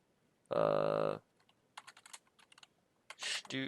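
Commands typed on a computer keyboard, bursts of fast, close clicking key taps, interrupted briefly by a steady electronic tone.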